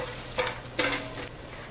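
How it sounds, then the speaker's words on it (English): Whole spices fry in oil in a pan: bay leaf, black cardamom, cloves, black peppercorns, mace and cinnamon sticks. A steady sizzle runs underneath, with a few quick scraping strokes as the spices are stirred close up. "and give that a stir"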